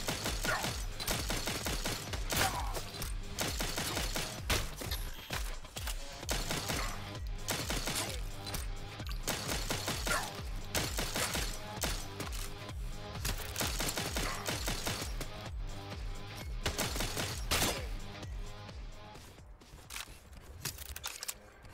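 Continuous rapid gunfire from the top-down co-op shooter game CyberCorp, dense bursts of shots and impacts layered with game music and effects, loud and nearly unbroken throughout.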